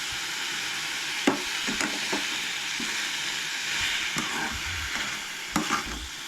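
Onion and tomato roasting in a pan for Goan-style chana masala, a steady sizzle broken by occasional spoon scrapes and knocks, with no talking.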